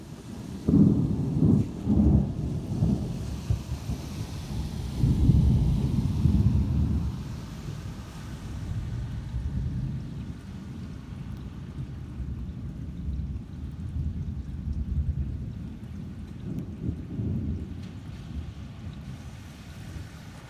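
Severe thunderstorm with close lightning strikes: loud rumbling thunder rolls in heavy bursts early on, then fades to a steady wash of rain and distant rumble, swelling again near the end.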